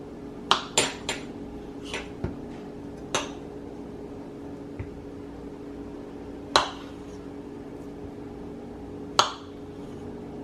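A knife slices potatoes in half on a cutting board, with a series of sharp clicks and knocks. The strokes come irregularly, some quick and clustered, others spaced seconds apart, over a low steady hum.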